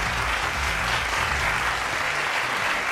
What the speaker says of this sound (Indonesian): Tepuk tangan lagi untuk Andrian Wang